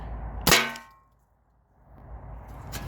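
A modded T4E HDB shotgun round strikes an aluminum sheet with a single loud, ringing metallic clang that decays over about half a second, followed by quieter background noise and another faint hit at the end.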